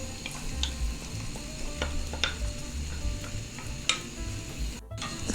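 Potatoes, garlic and onion fry in olive oil with a steady close sizzle, broken by a few scattered stirring clicks and scrapes of a utensil against the pan.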